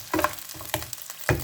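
Oil sizzles and spits in a frying pan during seafood spaghetti preparation, with short crackling bursts coming in uneven clusters, close up and moderately loud, no voices.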